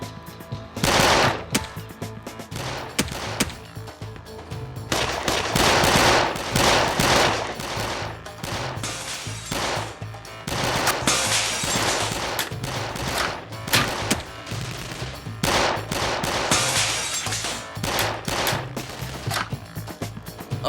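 Bursts of rapid gunfire in a dubbed TV action series ambush scene, machine-gun volleys and scattered shots, loud and close, repeating in waves throughout with brief pauses between.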